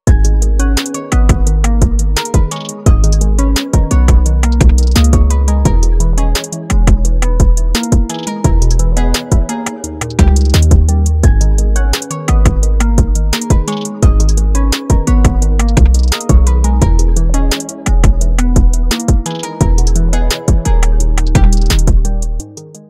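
A full trap beat made in FL Studio plays continuously, with booming 808 bass, crisp hi-hats and punchy snares in a steady, loud groove, no voices.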